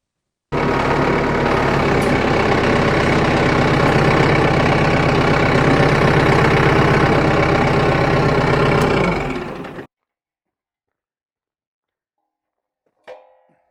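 A tractor engine idles steadily while hooked to a County Line post hole digger, a loud continuous diesel-like rumble with a knocking pulse that runs for about nine seconds and then cuts off, followed by a brief faint clatter.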